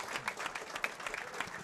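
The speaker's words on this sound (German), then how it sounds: "Einmal sehr Applaus gerne." Audience clapping after a performance at a stage event at the 32c3 congress, a dense, steady burst of many hands close by with no voices over it.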